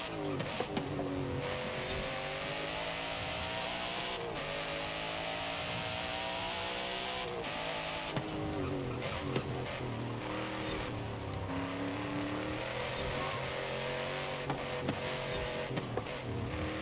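A car engine in the racing game Forza Horizon 5 drones and revs continuously, pitch rising and falling through gear changes and acceleration, a close, steady engine tone with brief dips and no talk.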